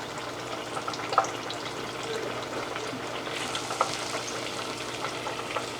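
Beer-battered fish fries in a deep fryer, giving a steady, dense crackling sizzle close up with occasional louder pops, continuous throughout.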